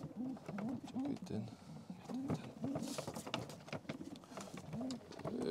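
Pigeons coo steadily in a loft, repeated rolling low calls close by at a lively rhythm, with soft wingbeats and rustling among them.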